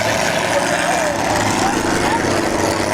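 A demolition derby car engine restarted after trouble, running with a loud, steady buzzing drone at close range while people talk over it.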